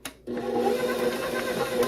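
A kitchen blender whirs steadily while mixing cheesecake filling, starting with a brief click before a constant close motor hum.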